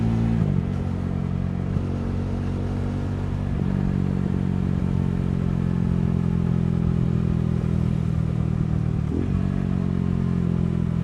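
A 2024 KTM 390 Adventure SMT supermoto-touring motorcycle being ridden, its engine a steady, close droning hum with a few brief dips as it shifts through gears.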